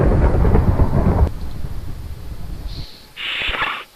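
A Minecraft thunderstorm: a heavy rolling rumble of thunder fills the first second, then trails off into a softer, faint hiss of rain with a brief quieter rumble near the end, and no voices.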